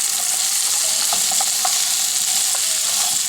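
Mushrooms sizzle loudly and steadily in a hot frying pan, with soft scraping and tapping as they are stirred and flipped over, close by and without talk.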